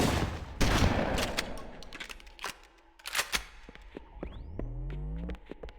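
Gunfire from a marine in the video game Halo rings out as a loud opening burst, then scattered single shots and short volleys, with a few mechanical clicks and a rising electronic whine near the end.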